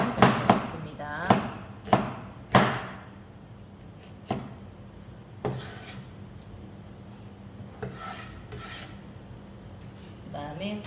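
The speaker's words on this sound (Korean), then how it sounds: "그 다음에 양파 똑같이 채를 썰으시면 되겠습니다." Knife chops through onion on a cutting board, cutting it into thin julienne strips: a run of sharp, separate blade strikes, some close together and some spaced out, heard close up against quiet room noise.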